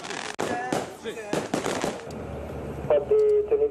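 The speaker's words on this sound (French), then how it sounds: "Alors qu'éclatent pétards et feux d'artifice" Firecrackers and fireworks burst on New Year's Eve in Nouméa, a cluster of sharp loud cracks in the first two seconds, then quieter distant pops with a faint electronic beeping tone near the end.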